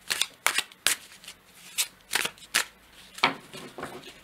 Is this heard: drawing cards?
yes